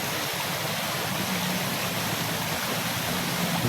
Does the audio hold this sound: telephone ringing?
no